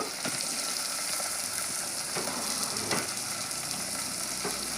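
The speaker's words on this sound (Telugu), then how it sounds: "ముందు టమాటాలు వేస్తానండి టమాటాలు వేస్తాను" Tomatoes drop into ginger garlic paste in a hot pan and fry with a steady loud sizzle, soft stirring clicks showing now and then, no voices.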